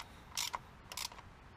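Two quick bursts of ratchet clicking from a socket wrench loosening a spark plug on a Mazdaspeed engine, close and crisp, separated by a short pause.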